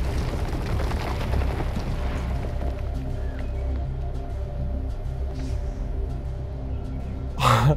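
A deep, rumbling explosion in the video game Far Cry 4, loud and sustained under a continuous game soundscape, with a short sharp burst near the end.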